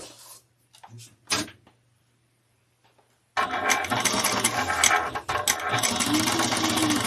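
A sewing machine basting foam for a handbag starts up after a few quiet seconds with faint handling clicks, then runs in a steady, close, fairly loud whir to the end.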